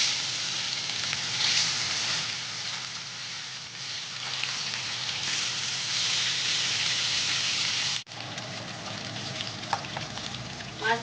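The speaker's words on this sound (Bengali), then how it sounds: "কড়াতে সর্ষের তেল দিয়ে মাছগুলোকে ভেজে তুলছি।" Rohu fish pieces fry in hot mustard oil in a wok, giving a loud, steady, crackling sizzle that continues throughout with a brief dip near the end, and no talking.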